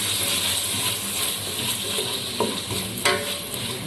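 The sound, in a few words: stirring tomatoes into frying fish curry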